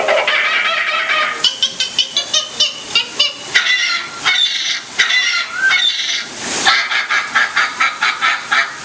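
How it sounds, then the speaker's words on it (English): Animatronic birds in the Tiki Room show break into a loud, frenzied chorus of squawks and honks, rapid overlapping calls piling up close by and alone. "Suddenly, the treetops explode in a frenzy of outraged birds."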